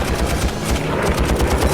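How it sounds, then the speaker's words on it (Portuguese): A rapid, sustained burst of machine-gun fire from a fighter plane in a WWII dogfight against an ME-109, dense repeated shots throughout with no speech. "Então, Pruitt dispara uma longa rajada no segundo ME-109."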